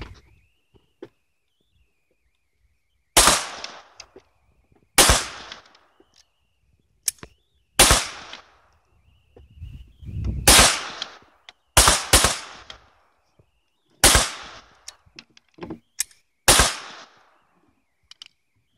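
A Ruger pistol fires at an outdoor shooting range: about nine sharp, loud shots at irregular intervals, some in quick pairs, with quiet gaps between them.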